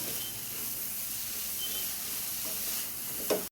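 Crushed tamarind leaves sizzle and hiss steadily in a hot pan, close by, with a brief stir near the end.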